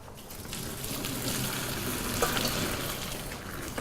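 Cooked konjac tagliatelle drained in a kitchen sink, water pouring and splashing steadily through the whole stretch with a broad, continuous rush and a few brief clatters near the middle.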